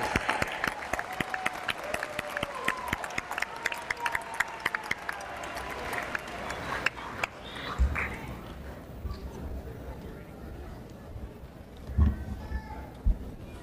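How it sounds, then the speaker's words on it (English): Audience applause for graduates of the College of Humanities and Social Sciences at a fall 2014 university commencement, a crisp, busy clapping crowd that fades out midway, followed by quieter hall ambience with a few distant thumps. "Please join me in a round of applause for all of the graduates from the College of Humanities and Social Sciences."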